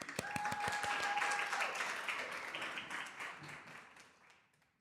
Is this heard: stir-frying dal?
no